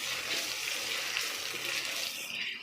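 Chopped onion and two green chillies frying in oil, a steady close hiss and sizzle that runs evenly throughout with no voices.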